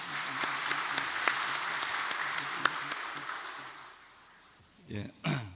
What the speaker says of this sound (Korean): 목사님 나오실 때 다 같이 크게 박수로서 맞이해 주시겠습니다